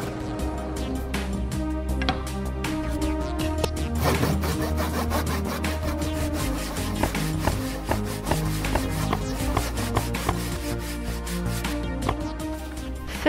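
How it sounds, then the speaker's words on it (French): Plywood pieces for a model racing boat are sanded and cut by hand with sandpaper, a close, loud, continuous run of rhythmic rasping and scraping strokes with no talk. "Découpez, percez et poncez les bords de toutes les pièces de contreplaqué restantes"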